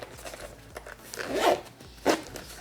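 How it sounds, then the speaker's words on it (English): A zipper on a travel case drawn closed in a few short rasping pulls, close and clear, with the longest stroke in the middle and a quick final tug. "Let's go ahead and zip that up."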